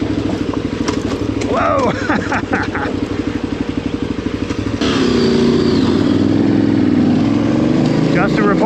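A motorcycle engine revs hard nearby, its pitch rising and falling in bursts before settling into a loud sustained drone, while a voice exclaims briefly over it.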